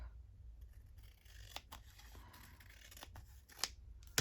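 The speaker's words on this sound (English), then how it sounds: "Snip that off." Scissors snip through decorative paper while making tags with window flipouts: several sharp, crisp cuts scattered across the moment, close and fairly quiet, with no talking.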